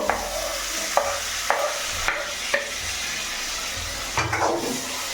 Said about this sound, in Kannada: ಒಂದು ಟೂ ಮಿನಿಟ್ ಫ್ರೈ ಮಾಡಿ ಚೆನ್ನಾಗಿ